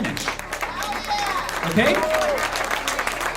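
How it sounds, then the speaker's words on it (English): An audience at a comedy show claps, a steady wash of applause running beneath a person talking. "People started clapping"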